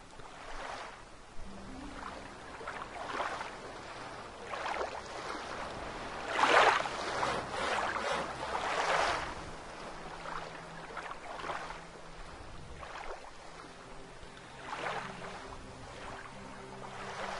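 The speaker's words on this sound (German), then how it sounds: "So, jetzt plätschert's wieder ein bisschen." Gentle, continuous water splashing and lapping during a boat crossing in the video game Gothic 2, with a somewhat louder swell of splashes midway, steady and moderately quiet throughout.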